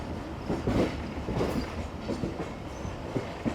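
A GU40 diesel locomotive passes with its train wagons, heard as a rumbling rail roll with rhythmic clickety-clack wheel beats and a faint squeal, moderately loud and close.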